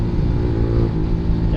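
A motorcycle engine with an open airbox revs loudly and close by, a throaty, steady roar with no talking.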